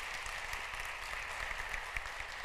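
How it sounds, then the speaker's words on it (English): A conference audience gives a sustained round of applause, a dense continuous patter of clapping heard from within the hall, steady and moderately loud, with no speech. "Please give them a big round of applause."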